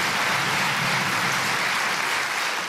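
A television studio audience on a German talk show gives a short, dense burst of continuous applause at steady loudness.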